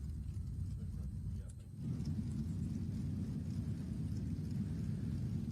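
Race car engines idle and rumble as a stopped field waits on the front straightaway at New Smyrna, a steady, dense low drone that swells a little louder partway through, with no talk over it.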